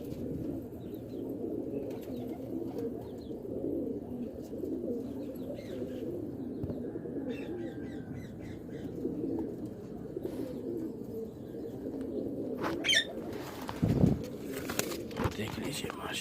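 Pigeons coo softly at a pigeon market in Multan amid a busy background murmur of people talking, with a brief burst of wing flapping or handling noise near the end.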